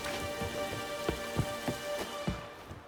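Light drizzle patters steadily on surfaces in the game The Witcher 3, with soft, even raindrop ticks, a low rumble and a few louder drops close by, no talk.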